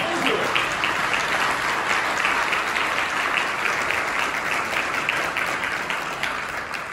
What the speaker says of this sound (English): Give the team a round of applause.